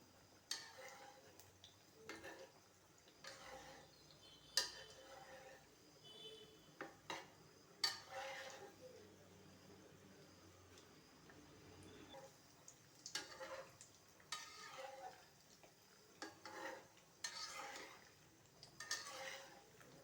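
Spoon scraping and clinking against a pan while food is stirred and cooked, in irregular strokes close up, with faint kitchen clatter and no speech.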